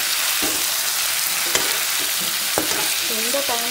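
Chicken pieces sizzle steadily in hot oil in a pan, broken by a few sharp scraping stirs of a spoon against the metal, with no talking.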